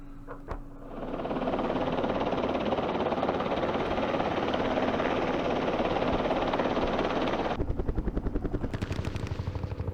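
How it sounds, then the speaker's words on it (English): Helicopter gunships arriving in a Vietnam war strategy game, Lam Son 719 campaign: a loud, steady rotor-and-engine roar fills nearly the whole stretch, turning into choppy, rapid bursts like machine-gun fire toward the end. "we have a whackload of gunships coming in to help out"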